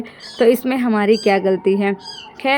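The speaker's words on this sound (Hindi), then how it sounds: "आज तो पूरे ब्लॉग में आप लोग को बिल्ली की आवाज़ सुनाई दे रही होगी" A cat in a village family home in India meows several times, mixed in with someone speaking nearby.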